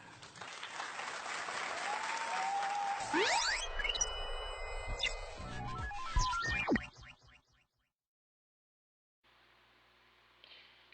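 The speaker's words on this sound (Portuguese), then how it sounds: "Vamos parabenizar essa poesia, eles estão de parabéns. Merecem aplausos mesmo." An audience applauds after a poetry performance at an event on Deaf culture. Loud, continuous clapping with electronic chirps and sweeps over it runs for about seven seconds, then cuts to near silence.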